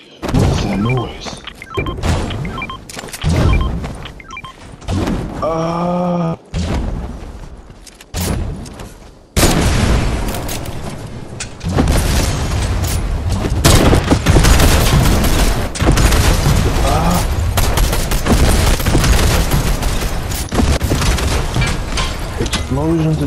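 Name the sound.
explosions in the video game Fortnite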